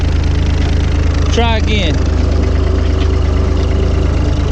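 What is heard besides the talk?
tractor engine running while backing up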